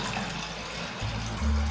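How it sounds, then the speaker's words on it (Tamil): Water is poured into a cooking pot for sago payasam, a steady, close splashing gush that swells deeper and fuller as the pot fills. "இப்போ தண்ணி சேர்த்துக்குவோம்."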